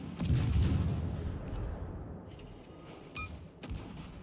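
Naval gunfire in the World of Warships warship game: a heavy boom at the start that rolls into a long fading rumble, then a couple of smaller thuds, with no talking.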